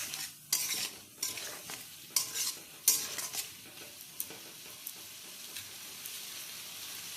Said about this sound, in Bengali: মশলা দিয়ে আবারও নেড়ে চেড়ে নেওয়া হচ্ছে।